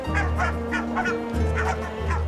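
Barnacle geese, Arctic cliff nesters, call in a loud, repeated series of honking notes at a steady rhythm, close and clear over a constant low background rumble.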